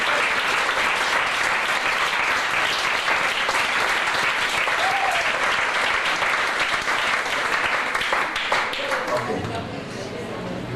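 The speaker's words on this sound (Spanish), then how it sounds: "Pero un aplauso, Señor." A large church congregation bursts into sustained, dense applause during a sermon, filling the whole stretch, fading slightly toward the end, with faint voices mixed in.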